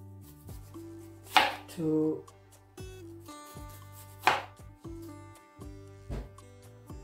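Onion and garlic being chopped with a knife on a board for an oven-baked tilapia dish, a few distinct sharp cuts spaced out over a steady background tone, with a brief spoken word or two.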